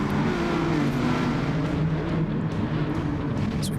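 A group of club race cars roars past on a circuit, steady engine drone with a sustained pitch, loud and close throughout with no talking.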